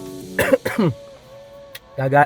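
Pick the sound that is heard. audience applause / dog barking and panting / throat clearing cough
throat clearing cough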